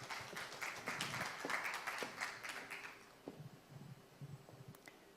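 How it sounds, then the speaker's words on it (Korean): Applause from an audience at a 2022 startup idea competition and award ceremony, a few seconds of moderate clapping that thins into scattered claps, heard from some distance and fairly faint. "큰 박수로 맞이하겠습니다."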